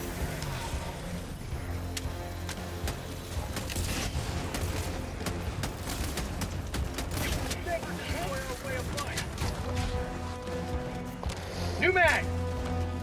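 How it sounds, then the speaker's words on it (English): Gunfire crackles in the sci-fi shooter Helldivers 2 as a dense, continuous battle din of shots and booms under steady talking, rising to a louder burst near the end. "I think I see where the gunfire is coming from."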